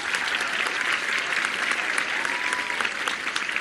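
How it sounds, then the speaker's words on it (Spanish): An audience at a public event in Mexico applauds for Jesús Esteva, the infrastructure secretary, with dense, even clapping that holds steady from start to finish. "hay que dar un aplauso a Jesús Esteva"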